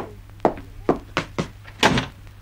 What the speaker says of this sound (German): Machen Sie ruhig die Tür hinter sich zu.